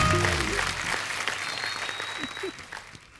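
Audience applause for two guests welcomed onto a Hindi TV show stage, dense clapping loud at first and gradually thinning, with faint voices mixed in.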